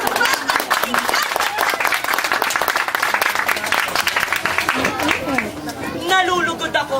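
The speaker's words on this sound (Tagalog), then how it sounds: "Salubungin sila ng palakpak at tingkat." Audience at a Filipino balagtasan debate breaks into dense, sustained applause with crowd chatter mixed in, tapering near the end as a single voice begins speaking.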